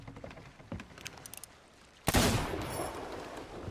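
Gunfire in the pirate video game Sea of Thieves, fired while fighting ghosts on an island: faint scattered clicks, then one sudden loud blast that rings out and slowly decays.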